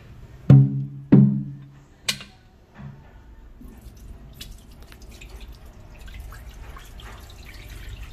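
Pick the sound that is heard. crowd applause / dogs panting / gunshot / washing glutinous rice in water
washing glutinous rice in water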